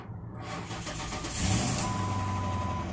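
A Ford Crown Victoria with a freshly installed battery cranks and its engine catches, settling into a steady mid-pitched idle that stays close and continuous through the end.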